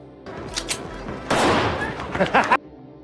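Bursts of gunfire crackle in quick, uneven volleys, loud and close, like a short exchange of shots in a firefight between marines, DEA agents and cartel members.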